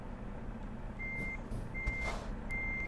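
A truck in Euro Truck Simulator 2 sounds its reversing alarm, three evenly spaced high beeps over a steady low engine rumble, with a faint hiss of air in the middle.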